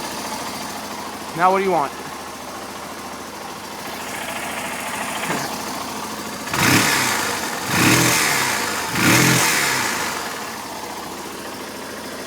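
Yamaha BW200 Big Wheel engine idling steadily up close, then three strong throttle blips rising and falling in quick succession, with a brief spoken line early on.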